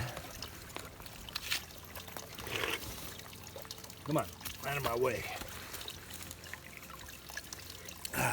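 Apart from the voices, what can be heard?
spring water trickling out of rocks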